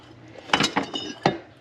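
Kitchen dishes and pots, near a tea kettle, coffee pot and teapot, are shifted about during cleaning, giving several sharp clinks and clatters close by in a quick irregular cluster, with no talking.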